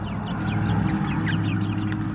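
Chickens cluck softly in a coop or pen where one of them may be a young rooster, with steady low murmuring calls and a few sharper chirps layered over constant background hum.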